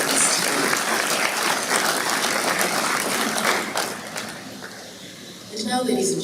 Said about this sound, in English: a round of applause for the members of the